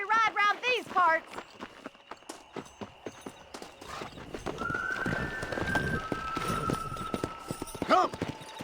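In the video game Red Dead Redemption, hooves clip-clop quickly and steadily under a horse's whinny and a voice. A second horse neighs near the end.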